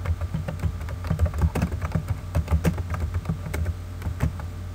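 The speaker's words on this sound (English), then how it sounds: "We will just go ahead and start typing that" Fingers type on a computer keyboard in quick, irregular bursts of close, crisp key clicks with no voices.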